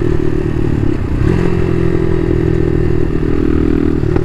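A Bashan Motomax 250 street-legal dirt bike rides in traffic, its mid-pitched engine droning loud and steady with wind rush and slight shifts in tone.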